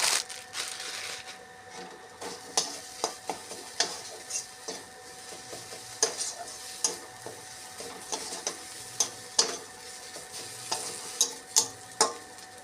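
Crushed peanuts and ginger fry in a spice mix in a pan for stuffed eggplant, with a steady sizzle and repeated sharp scraping taps of a spatula stirring at a close range.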